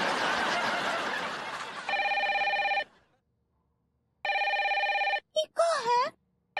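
A telephone bell rings twice in separate bursts of steady electronic trilling with a pause between, and a voice speaks briefly at the end.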